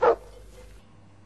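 One sharp dog bark sounds near the start, then a short faint tail and quiet background.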